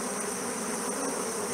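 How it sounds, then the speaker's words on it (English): Stingless bees buzz at the entrance of their hive, a dense continuous hum of many insects close to the microphone, steady and unbroken with no voices. "a great way to see how many bees are actually flying in and out of a hive"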